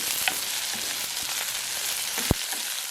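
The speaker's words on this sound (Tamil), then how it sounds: "வெந்தயத்தை போடுவோம்." Fenugreek seeds fry in hot oil for a Jaffna long tom fish curry tempering, giving a steady close sizzle throughout with one brief sharp crackle near the end.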